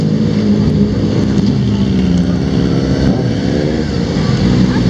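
Motorcycles and police vehicles rolling past outdoors at a Venice Beach gathering, a loud, dense rumble of engines with throbbing exhaust, constant and close for a few seconds.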